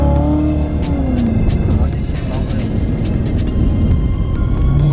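A 2018 Chevrolet Corvette C7 Z06 accelerates hard, a loud continuous engine roar with rising and shifting pitch heard from nearby, mixed with road noise throughout.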